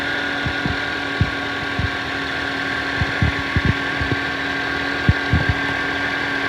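A Toyota Corolla idles with a steady hum and a constant whine from the engine bay, broken by irregular low knocks or thumps at close range, with no voices.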